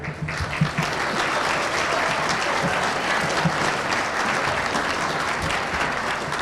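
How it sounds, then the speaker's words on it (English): Guests at a black-tie gala benefit give sustained, dense applause that fills the room evenly for several seconds, with faint crowd murmur underneath. "How about a big round of applause for the Marriott?"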